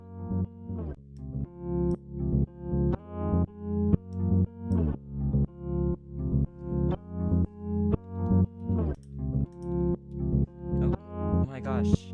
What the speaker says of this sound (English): it's ducking the audio of the other track